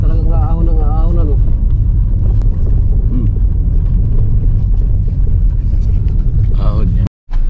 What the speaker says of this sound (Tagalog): Itong motor naman pag naka-primera talagang aahon ano.